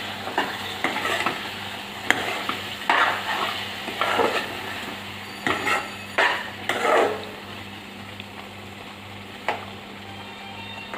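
Baby prawns and potato stirred together in an oily frying pan, a steady sizzle broken by repeated scraping and clinking strokes of a spoon against the pan in an uneven rhythm.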